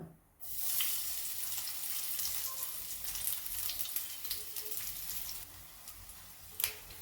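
Crushed garlic dropped into hot oil while making a Kerala potato stir-fry bursts into a loud, steady sizzle that holds for several seconds, with a faint clink of a utensil near the end.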